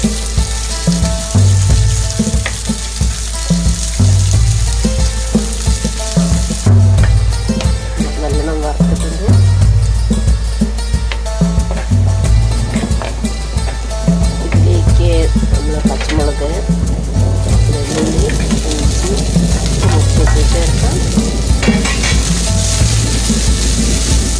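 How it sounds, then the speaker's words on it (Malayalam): Chopped onion sizzles steadily in hot oil in a pan for prawn curry, a continuous fry running the whole time under a steady tonal backing with occasional stirring. "ചൂടായ എണ്ണയിലേക്ക് ഒരു പകുതി സവാള ചെറുതാക്കി മുറിച്ച് വെച്ചിട്ടില്ലേ അത് ചേർക്കാം അതൊന്ന് നല്ലോണം മൂപ്പിക്കാം"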